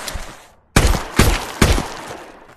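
Sharp rifle shots in the VR shooter Tactical Assault VR: three loud, close cracks spaced roughly half a second apart, each with a short ringing tail, after a brief quieter stretch.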